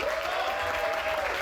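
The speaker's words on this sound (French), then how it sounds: "Applaudissez, s'il vous plaît." Audience applause at an evening gala show, a dense steady burst of clapping from a crowd filling the short moment.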